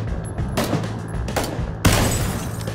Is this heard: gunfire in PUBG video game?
yes